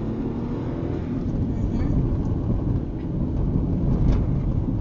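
Steady cabin rumble inside a Hyundai HB20 1.0 on the move, a continuous low road and engine drone filling the space at moderate level with no sharp events.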